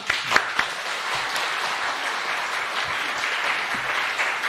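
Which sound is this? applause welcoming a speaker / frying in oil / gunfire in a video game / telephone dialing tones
applause welcoming a speaker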